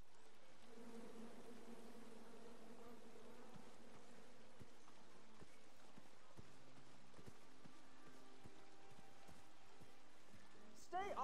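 Buzzing bees in King's Quest, a steady droning hum with scattered tonal game sounds and light clopping over it, ending in a short sharp burst.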